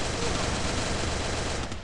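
Dense, continuous gunfire from the Free Fire video game plays as a loud, unbroken rattle of shots for the whole short moment.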